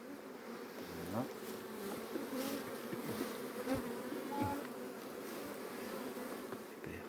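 Honeybees from a swarm buzz densely around full brood frames in a hive, a continuous close droning hum with individual bees whining past, no voices.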